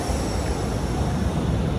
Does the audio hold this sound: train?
yes